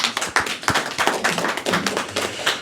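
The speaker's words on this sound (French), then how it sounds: "On va les applaudir encore une fois de plus." An audience at a Christmas and year-end celebration gives a short burst of close, dense applause, loud and scattered with hands clapping out of step.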